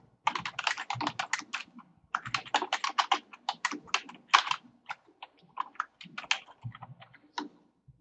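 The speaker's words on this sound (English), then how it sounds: "and then type your journal." Fingers type on a computer keyboard in quick, irregular clusters of crisp key clicks with brief pauses between bursts, close and clear with no talk.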